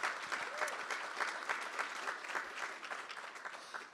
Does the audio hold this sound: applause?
yes